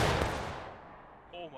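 A company volley of rifle fire in a Civil War video game, one loud massed blast that rolls off into a fading echo, followed by a brief voice.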